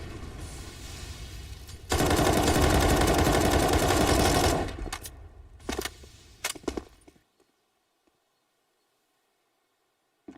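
Gunfire from Counter-Strike: Global Offensive on the Inferno map during a pistol round: a long, loud stretch of dense shooting, then a few separate sharp Desert Eagle shots before it falls quiet.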